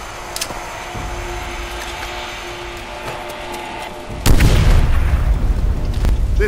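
A grenade blows up in the video game Call of Duty: World at War, a loud, deep boom that erupts suddenly after several seconds of quieter game ambience and keeps rumbling to the end.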